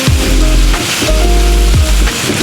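Meat for an Arabian potato dish sizzles loudly in a frying pan, a close, constant crackle with a few sharp pops and clatters of stirring.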